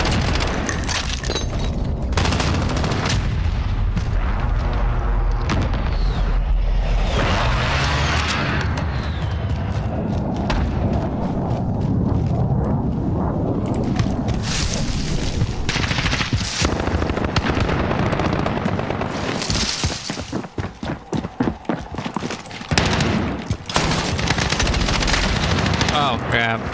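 An airstrike hits during a hardcore match of Call of Duty Modern Warfare. Dense, loud bursts of automatic gunfire and heavy booming explosions pile over one another almost continuously, with sharp single shots cutting through near the end.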